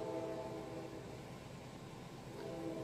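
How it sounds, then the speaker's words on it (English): A train horn sounds in the distance as a steady, sustained tone over a constant background hiss, with no clear breaks between blasts. "There's the train. Two long, one short, and one long."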